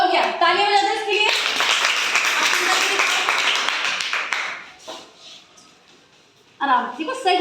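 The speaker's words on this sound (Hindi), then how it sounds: "तालियां बजा दो इसके लिए" Schoolchildren in a classroom burst into a few seconds of lively group clapping that fades out, with children's voices talking before and after.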